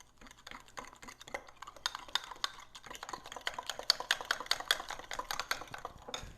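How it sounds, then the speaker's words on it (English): Sugar is stirred into a bread dough mixture with a utensil, making rapid, close clicking and scraping taps against the bowl in a brisk irregular rhythm that quickens midway, with no talking. "Gonna mix that in."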